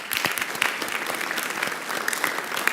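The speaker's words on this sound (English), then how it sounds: "One big round of applause, please." Applause from a crowd at a city council meeting, steady scattered clapping throughout the short moment.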